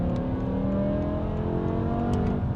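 The engine of a 2006 BMW M6 hums steadily from inside the car while driving, a smooth, moderately loud drone with rising tones as it pulls, without talk.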